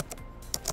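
Keys clack on a computer keyboard while a prompt is typed into ChatGPT, a few quick, close taps in short bursts with no talking.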